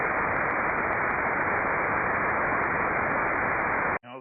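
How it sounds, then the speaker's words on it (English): Steady white-noise static from an amateur radio receiver on the 23cm band during a net, loud and continuous across the whole stretch, cutting off abruptly near the end. "a lot of white noise"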